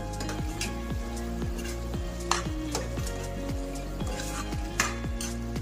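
Mutton kheema being stirred and mixed with garam masala and pepper powder in a sizzling pan, the spoon scraping in a steady repeated rhythm over continuous frying hiss.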